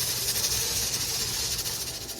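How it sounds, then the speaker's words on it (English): A pressure canner processing hamburger meat hisses with steam at high heat, a steady, continuous hiss at moderate level with no talking. "I'm going to leave it steaming at this high temperature for at least 75 to 85 minutes."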